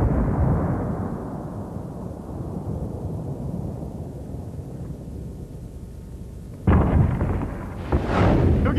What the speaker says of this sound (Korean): 몇 초 후면 수류탄은 폭발할 것이다.